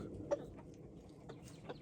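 Chickens scratch in a yard coop with greens, giving a few soft, scattered clucks at moderate distance over a quiet background, with no talking.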